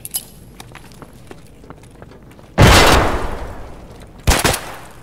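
Gunfire in Escape from Tarkov: faint scattered shots at first, then a loud close burst that rings out and decays, followed by a second sharp shot near the end.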